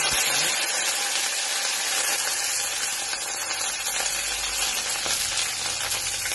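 Mustard seeds frying in hot oil for a brinjal curry give a dense, continuous crackling sizzle at close range, even and steady throughout, with no talk.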